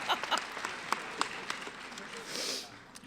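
Scattered hand claps from a commencement crowd at the Tippie College of Business ceremony, a thin, fairly quiet patter of individual claps that tails off into a soft wash.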